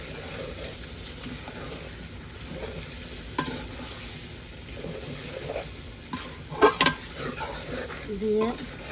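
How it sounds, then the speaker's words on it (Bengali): Shrimp and bay leaf sauté in a pan with a soft, continuous sizzle, punctuated by a few louder stirring scrapes and clinks near the end. "আমি একটু কষিয়ে তারপরে কাঁঠাল দিয়ে দিব"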